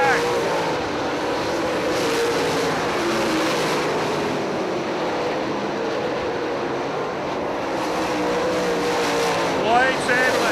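Late model dirt-track race cars roar continuously around Eldora Speedway in Rossburg, Ohio, a dense, loud engine drone with passing cars swelling by, under an announcer's voice calling the race.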